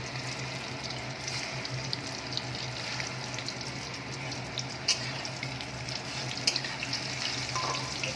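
Chicken kofta balls frying lightly in oil in a pan, a continuous close sizzle with a few sharp crackles and pops, no talking.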